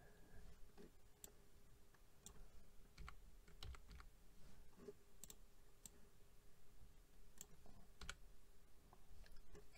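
Sparse, quiet key presses on a computer keyboard give scattered crisp clicks and taps against a faint background hum, with no one speaking.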